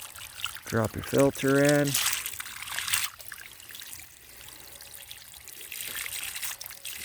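Water trickles and pours while a swimming pool filter is cleaned and left to overflow, a soft steady running-water sound under and after a short spoken instruction.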